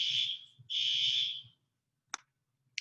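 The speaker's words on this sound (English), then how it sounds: "Fire alarms probably be going off quite a few times" A fire alarm in a classroom sounds two long, loud, harsh buzzing blasts, then stops, leaving two short clicks in near silence.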